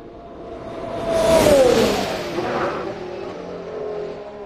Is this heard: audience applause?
no